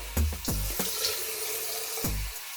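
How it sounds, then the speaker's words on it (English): Tap water running into a sink while someone rinses their face, with close splashes and a few brief low thumps over the steady stream, and no talking. "And now I'm just going to rinse my skin"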